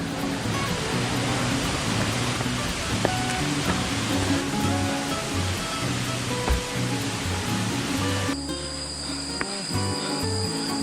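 Steady broadband rushing water roars continuously at a waterfall in Vang Vieng, Laos, during the rainy season, with a shift in tone near the end.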